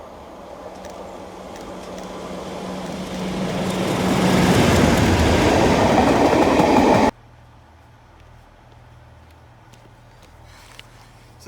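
Heritage railway train on the Wensleydale Railway at Leyburn, swelling from a low rumble to a loud, close roar as it passes, then cutting abruptly to a quiet low hum.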